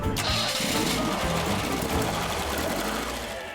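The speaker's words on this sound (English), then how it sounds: "This Europa Special is powered by one of these big-valued twin-cam engines." A Lotus Europa Special's big-valve Ford twin-cam engine runs at a steady, loud, busy note with a dense mechanical whir, holding constant before easing slightly at the end.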